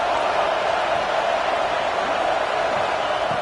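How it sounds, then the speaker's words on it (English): A loud, continuous roar of a large stadium crowd, a steady wash of cheering and noise with no distinct voices. "And here comes the noise. This crowd is trying to inspire this defense"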